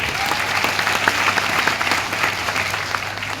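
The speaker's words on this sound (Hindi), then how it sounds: "एक बार जोरदार तालियां सिस्टम के लिए।" An audience at a celebration event claps loudly and continuously, a dense, steady burst of applause with individual claps standing out, close and sustained throughout.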